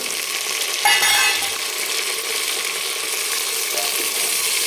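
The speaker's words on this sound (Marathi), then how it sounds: "तर आता मी टोमॅटो टाकून घेते एक टोमॅटो" A tomato sizzles in a hot pan while a mutton curry is cooked, a steady bright frying hiss throughout with a brief louder burst near the start as the tomato goes in.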